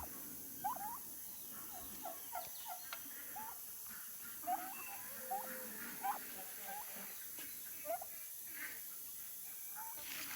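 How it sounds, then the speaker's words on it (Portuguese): Turkeys on a small farm with free-range chickens give a string of short, faint gobbling calls at irregular intervals, distant and soft over a steady background hiss. "Um pouco dos perus"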